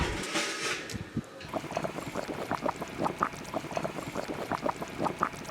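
Beef broth is poured into a pot of beef hooves with a brief splashing gush, followed by a run of quick, close bubbling and sloshing liquid sounds.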